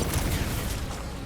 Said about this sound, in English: Sounds like a lot of Flark and gunfire.